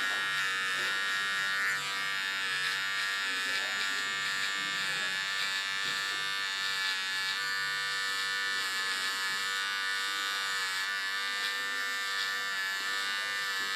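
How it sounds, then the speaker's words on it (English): An electric hair clipper shaving hair during a mohawk haircut, a steady close-up motor buzz holding throughout with faint scraping variations as the blades move across the head. "By moving the clipper to the sides, it shaves stronger lines."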